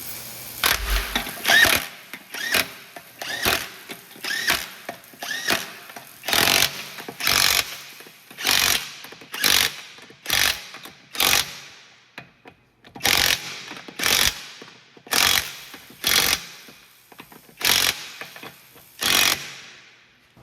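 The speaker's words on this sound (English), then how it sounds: "throw the wheel nuts back on, and we're gonna snug these down" Wheel nuts on a Cadillac SRX are snugged down with a tool, giving a long series of sharp, evenly spaced ratcheting bursts, close and loud, each with short gaps between them.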